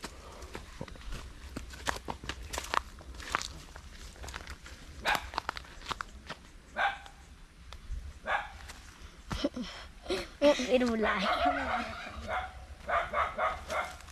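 An angry dog at a humble home at the edge of a forest barks in repeated sharp bursts, some close and loud, mixed with yips and footsteps, rising into a frantic volley near the end.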